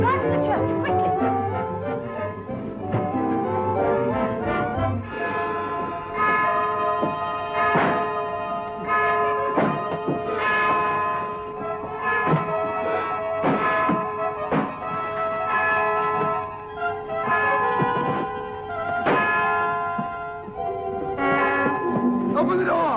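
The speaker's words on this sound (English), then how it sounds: "The church bell." A church bell rings in a 1940 thriller film scene, with steady repeated ringing strikes and sustained overtones over about twenty seconds, loud and continuous.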